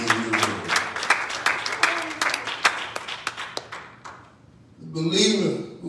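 A church congregation claps along during a sermon, with a run of sharp, irregular hand claps up close that thin out before a voice comes in over the end.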